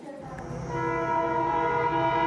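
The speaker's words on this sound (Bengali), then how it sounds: "দীর্ঘ অপেক্ষার অবসান ঘটিয়ে ট্রেন চলতে শুরু করলো" A train pulls out of a station with a sustained horn-like tone that swells and holds steady over a low rolling rumble, loud and close.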